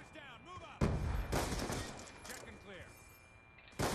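Rapid bursts of gunshots from a shooter video game crack out close and loud, with a player talking over the firing through much of it.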